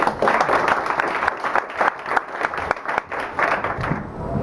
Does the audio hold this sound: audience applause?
yes